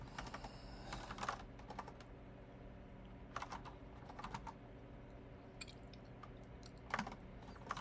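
Someone types on a computer keyboard while coding. Quiet, uneven bursts of key clicks come up close, with short pauses between the flurries and no speech.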